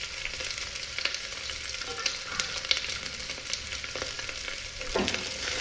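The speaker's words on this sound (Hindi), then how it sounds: "तो हम लोग इसमें प्याज डाल के अच्छे से प्याज को हम लोग गोल्डन ब्राउन होने तक इसे भुनेंगे" Onions fry in hot oil for a dhaba-style mutton curry, a dense continuous sizzle close up with occasional scrapes and light clicks from tossing and stirring.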